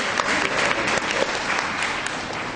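Audience clapping together at an indoor Hindi-language religious retreat in Panvel, Mumbai, a dense steady round of applause filling the room throughout with no pause.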